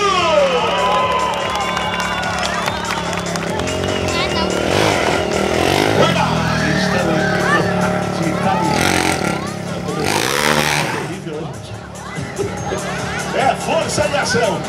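At a Honda motorcycle stunt show in Artur Nogueira, a crowd cheers and claps while motorcycle engines rev and whine loudly nearby, with an announcer talking over the din of the stunts.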